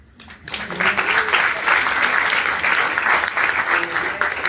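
An audience applauds at a gathering, sustained close clapping from a crowd that starts abruptly and continues evenly, with faint voices mixed in.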